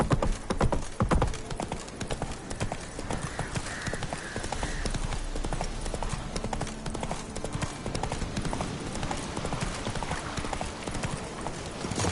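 Horse hooves gallop in The Witcher 3 video game, a continuous rapid clip-clop of a running mount with game ambience and music layered beneath, steady and fairly close throughout.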